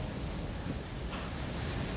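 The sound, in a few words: strong wind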